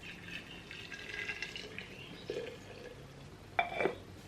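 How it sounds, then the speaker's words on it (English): Boiling water pours over honey and tea bags in a jug, a light close-up trickle and splash with a few sharper clinks and gurgles toward the end. "I'm going to add the boiling water into this"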